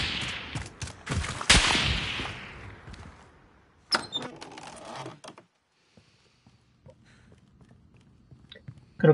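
Gunfire in the game Modern Warfare on PS5 opens with a rapid burst of loud sharp shots that fade into echoing tails, then a second shorter flurry of cracks, followed by quieter scattered clicks and rustles.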